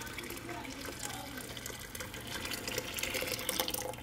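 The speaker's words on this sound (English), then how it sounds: "So what I'm doing is just pouring it little by little," Three gallons of water pour little by little into a bucket for homemade liquid laundry detergent, a faint continuous splashing trickle that builds slightly toward the end.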